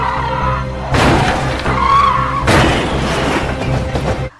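Mansok's car in the film The Man from Nowhere, speeding off under gunfire and then stopping: a loud, close engine roar with harsh tire skids and surges that cut off at the end.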